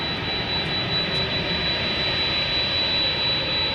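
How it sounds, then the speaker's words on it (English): An EVA Air jet airliner arriving at DFW Airport at night gives off a continuous, loud engine roar that holds steady from start to end with no speech. "Eva Air coming in."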